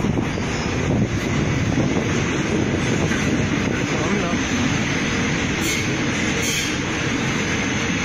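A steady, loud rumbling roar like a passing train, dense and continuous throughout, with some wind buffeting on the microphone.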